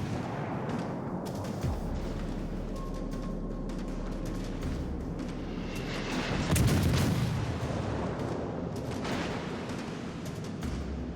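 A torpedo strikes a ship in a naval combat game, a deep muffled boom swelling in the middle over a constant low engine rumble and scattered distant thuds of gunfire.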